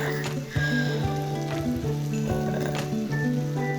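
Sautéed siomai hitting a hot pan with garlic and onion, giving a steady close sizzle that runs the whole time under a sustained tonal hum.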